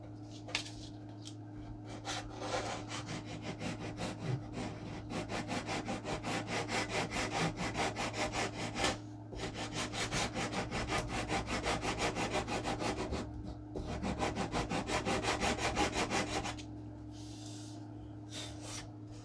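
Steady rhythmic scraping of a sanding block over wood on a model airplane fuselage, sanding it flush with the saddle, close and continuous, with brief pauses and a low hum underneath.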